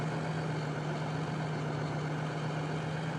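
A John Deere tractor engine in the Farming Simulator 2013 game, idling with a steady, droning low hum that holds constant throughout, with no voices.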